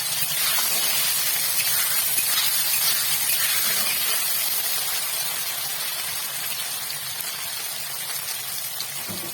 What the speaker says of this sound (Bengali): তো আগে পনিরটা ভেজে নিই।